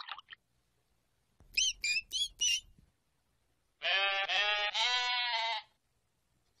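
A sheep bleats in a few short, wavering calls, then lets out one longer, louder bleat, clear and close against a quiet background.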